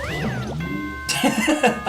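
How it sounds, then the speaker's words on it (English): A chime sounds in the Danganronpa 2 video game: steady sustained tones ring out through the middle of the clip, then brief thumping sounds follow near the end, with no talk. "That chime just now?"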